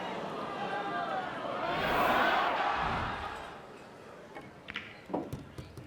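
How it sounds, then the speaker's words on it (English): Audience at the 2024 Mosconi Cup pool match cheering as a shot narrowly misses, a swelling roar that peaks and fades within a few seconds, followed by scattered claps and ball clicks. "I think that cheer was more out of hope than expectation."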